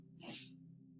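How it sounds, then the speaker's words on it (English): A single faint, breathy sneeze from a roommate, short and sharp, set against a low steady background hum with no talking. "My roommate sneezed."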